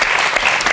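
Studio audience applauding on a French television talk show, a dense, steady clatter of many hands clapping close and loud throughout the short burst, with no voices over it.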